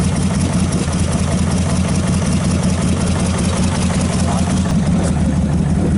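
A 1927 Franklin car engine, a barn find, runs rough on one cylinder, a loud, steady low idle with uneven chugging throughout and no talk over it.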